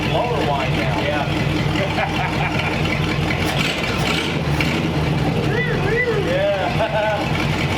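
Supercharger blower whine from the engine of a 1929 Ford roadster pickup fitted with scrap-built baffles, a steady droning run with a continuous mechanical hum and whine, while people talk over it.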